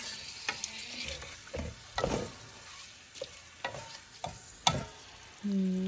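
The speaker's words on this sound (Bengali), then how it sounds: "মশলার সাথে মাছগুলো ভালো করে মিক্স করে নিয়েছি" Fish pieces from the market being stirred and mixed with spices in a hot pan, with sizzling frying and repeated scraping stir strokes, close and moderately loud, no talk.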